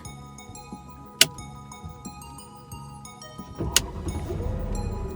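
A Mercedes car engine cranks and catches with a sharp burst, then settles into a steady idle, preceded by clicks and ticking from inside the cabin; nobody speaks.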